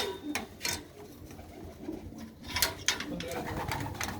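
Flying pigeons coo at a pigeon coop, with soft repeated coos and wing or movement sounds close by, while people talk over them.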